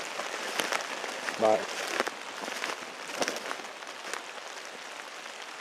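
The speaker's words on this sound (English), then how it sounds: "it's starting to rain pretty good" Steady rain patters outdoors in the Jessup River wilderness, a dense hiss of drops on leaves and ground that holds through the whole stretch, with one short spoken word near the start.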